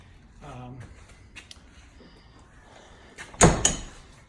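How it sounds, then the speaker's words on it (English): A Honda Talon 1000R/1000X side-by-side door fitted with an upper door panel is swung shut with one loud, sharp slam, followed by a short rattle, after quieter handling sounds nearby. "got the door shut all the way"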